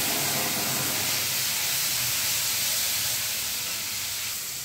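Spice paste of ground coriander, cumin, ginger, chili and turmeric dropped into a hot kadai for a traditional Bengali dish, giving a loud, steady, broad hiss of sizzling that fills the whole stretch and slowly eases off.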